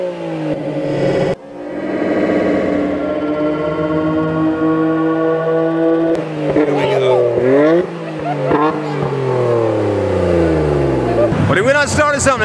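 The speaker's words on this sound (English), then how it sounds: "everybody wanting to rev their engine and hit their exhaust" Cars at a night meet under a bridge in Charleston, SC, revving hard with popping exhausts and flames, loud rising and falling engine sweeps close by, with people talking and shouting over the noise.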